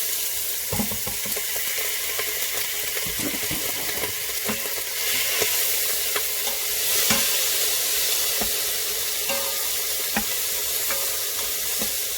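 Onion, celery and garlic sauté in a Pampered Chef Quick Cooker, a close, steady sizzle broken by frequent sharp spoon clicks and stirring scrapes, with a brief swell of hiss midway.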